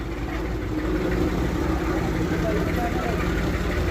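A vehicle engine labours and idles roughly on a muddy hill road in Kashmir after rain, a steady mid-low drone heard under a person speaking.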